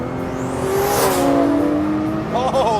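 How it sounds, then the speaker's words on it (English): A 1400-horsepower AMS Performance Alpha 12 Nissan GT-R accelerates hard, its rising turbocharger whine sweeping up over the engine roar before fluttering wastegate chatter as the throttle lifts; a voice speaks over it. "wastegate flutter and turbocharger whine. Everything is just really more immediate and powerful in this AMS Alpha 12 GTR."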